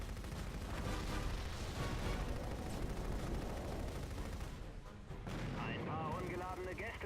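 Continuous heavy gunfire and booming artillery-like blasts from the video game Crimson Skies on Xbox roll on without pause, dense and loud, with faint voices or tones mixed in near the end.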